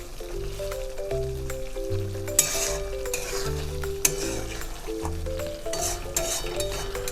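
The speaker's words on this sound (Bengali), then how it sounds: "চিকেনটাকে নাড়িয়ে চাড়িয়ে নিচ্ছি। দেখুন চিকেন থেকে খুব সুন্দর তেল বেরিয়েছে।" Chicken for black pepper chicken is stirred while it fries in its own released oil in a pan, giving a steady sizzle with spatula scrapes and taps, and a low background music tone running underneath.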